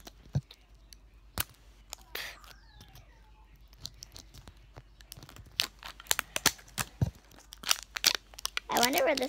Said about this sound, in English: It's easier when you actually use the zipper.